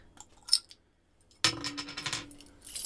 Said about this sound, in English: Sorry about the jingle. The bottle opener is on my keys.